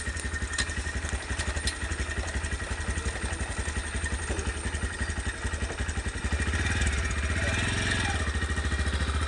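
A motorbike engine running steadily while riding, a close, loud, even mechanical drone that swells slightly louder partway through, with no speech over it.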